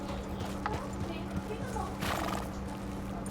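Horse hooves clip-clop with a brief neigh in Red Dead Redemption 2, heard over steady game ambience and background talk.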